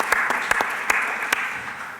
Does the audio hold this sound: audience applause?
yes